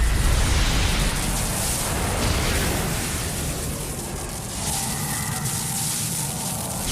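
A deep, sustained explosive rumble with dense broadband noise rolling on throughout, loud and unbroken, with no voices, from the anime Hunter x Hunter.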